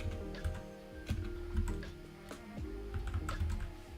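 Steady typing on a computer keyboard, a dense run of close, crisp key clicks over a low rumbling background hum, with no talking.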